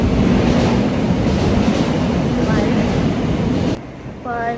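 A metro train rumbles loudly and continuously through an underground station, then the roar drops off sharply near the end as a faint voice or tone emerges.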